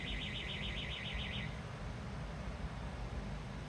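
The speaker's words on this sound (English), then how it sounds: "You heard that alarm go off, didn't you?" A warbling electronic alarm sounds indoors for about a second and a half, then cuts off, leaving a steady low background hum.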